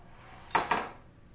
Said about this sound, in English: I usually like my little glass Pyrex pans.